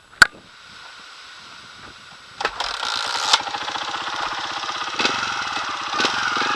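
Off-road trial motorbike on a trials course near a wood, a sharp knock, then the engine catching and running steadily, a close, continuous buzzing drone with a few louder revs, no talk.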